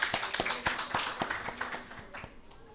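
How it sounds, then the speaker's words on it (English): A few people clapping at an international sustainability education conference, distinct claps fading after about two seconds, fairly quiet with a faint voice underneath. "Can we please have a huge round of applause for her,"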